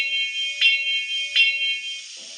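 Bell sound option 3 from the Bachmann EZ App on a Union Pacific ALCo 2-6-0 model locomotive: a sustained electronic ring with two distinct strikes, then a quick cutoff.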